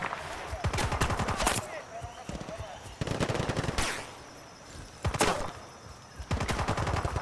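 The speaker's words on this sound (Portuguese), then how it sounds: "Nem sei de onde tá vindo esse tiro." Rapid bursts of machine-gun fire in Battlefield: Bad Company 2, loud and close, repeating in short volleys with pauses between, speech faintly underneath.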